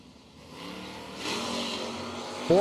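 Dodge Dart drag race car accelerating down a drag strip at a footbrake race, a broad engine roar that swells and grows louder toward the end, with no talk over it.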